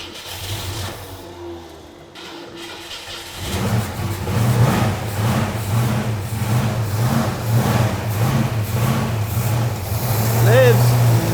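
A 1965 Ford Mustang coupe engine cranks with the key and catches, running roughly with a pulsing, uneven idle that grows louder toward the end, with voices talking over it.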